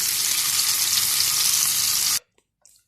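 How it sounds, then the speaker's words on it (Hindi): Mutton tikka boti skewers fry lightly in a pan with a loud, steady hiss that cuts off abruptly near the end, followed by a few faint clinks. "हल्का हल्का फ्राई करूंगी"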